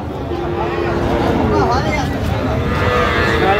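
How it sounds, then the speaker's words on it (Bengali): A young bull calf moos loudly and close at the Raniganj cattle market, a drawn-out bellow over the busy hum of the crowd, with people talking around it. "ষাঁড় বাচ্চা।"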